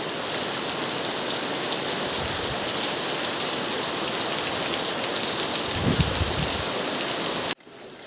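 A steady downpour roars loud and unbroken, with a few low rumbles mixed in, before cutting off abruptly near the end.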